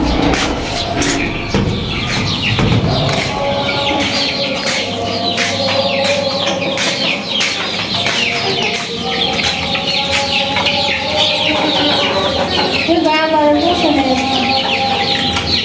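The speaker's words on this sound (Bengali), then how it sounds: "সাদের কি অবস্থা মুরগির বাচ্চার কি অবস্থা আপনাদেরকেও দেখাচ্ছি" Chickens and chicks kept on a rooftop cluck and chirp steadily throughout, with a rooster-like call rising near the end, close and fairly loud over a busy outdoor background.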